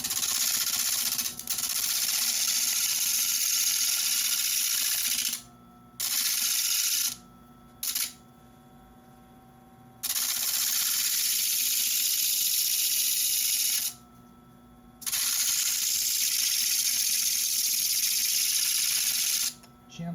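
Jasper cabochon ground against a spinning flat lap to put a bevel on its base, a steady loud hissing grind broken by several brief pauses where the stone is lifted.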